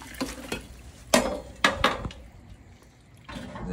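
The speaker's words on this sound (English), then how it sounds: "Give it a good stir." A pot of crawfish boil is stirred after seasoning is dumped in, giving a few sharp scraping clanks against the metal amid sloshing liquid, close and fairly loud, then quieter stirring.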